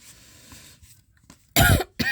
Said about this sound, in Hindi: सॉरी गाइस, मेरी खांसी ठीक नहीं हो रही है।